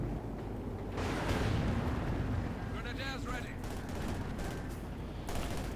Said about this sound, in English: Series of grenades there, exchanged.